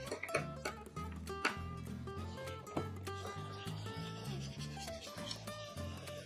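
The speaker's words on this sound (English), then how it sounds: "For this, I am using a horsehair brush." A horsehair brush rubs Angelus oxblood wax polish into leather shoes, a soft, repetitive scrubbing close by under steady background music.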